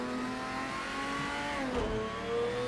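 In a racing sim video game, a race car engine screams at high revs, dips briefly at a shift and then rises again, a constant loud drone close to the listener with no voices.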